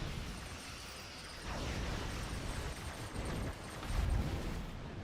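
Torpedo blasts in Star Trek Online rumble in a few muffled booming bursts over a continuous low roar of space combat, fairly faint and with no voices.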